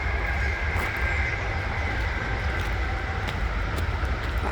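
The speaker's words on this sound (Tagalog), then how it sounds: "Yan yung aging train." A cargo train hauling container wagons rumbles past on the tracks, a steady low heavy rolling drone with faint wheel clatter throughout, close and continuous, with no voices.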